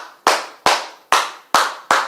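Five loud, sharp hand claps ring out alone at a slow, even pace, each with a short decaying echo, as in a church.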